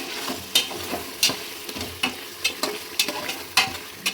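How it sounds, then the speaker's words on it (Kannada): Masala paste stirred into mutton roasting in oil, a steady sizzle with regular scraping strokes of a spoon against the pan, close and fairly loud. "ಮಟನ್ ಈಗ ಎಣ್ಣೆಯಲ್ಲಿ ಚೆನ್ನಾಗಿ ರೋಸ್ಟ್ ಆಗಿದೆ ಇದಕ್ಕೆ ಈಗ ನಾವು ಮಸಾಲ ಪೇಸ್ಟ್ ಮಾಡಿರೋದನ್ನು ಸೇರಿಸೋಣ"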